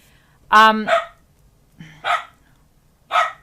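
A dog barks three times close by at a cat, the first a longer, tonal bark, the others short and sharp with pauses between.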